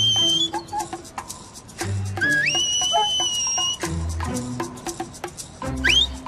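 Sharp, shrill shepherd's whistle commands to a sheepdog, rising and sliding tones repeated in short bursts, with other dogs and outdoor noises in the background, in New Zealand.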